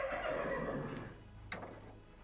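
A horse in the video game Gabriel Knight 2 gives a short whinny, moderately loud and close, followed by a couple of faint knocks over quiet low background hum.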